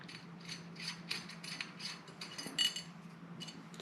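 Small screws being backed out of the scope rail on a Maverick air rifle make faint, close metallic clicks and ratcheting ticks, in a quick uneven series with no voice.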